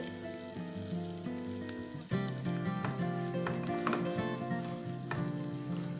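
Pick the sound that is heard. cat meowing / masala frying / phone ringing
masala frying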